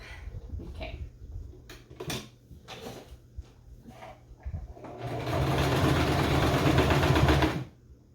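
A sewing machine stitching blazer fabric, first a few short bursts and clicks from handling, then a steady close whirring run of about two and a half seconds before it stops.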